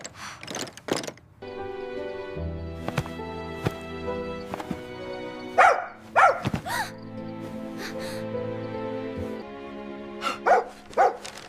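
A dog barks several times in short clusters over a sustained background music track with steady chords, the barks standing out sharply against the music.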